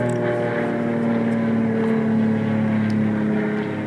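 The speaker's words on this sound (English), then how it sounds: "That's a plane." An airplane flies overhead in the open night sky, its engine a steady, droning hum with a faint tonal whine that holds throughout, with no voices.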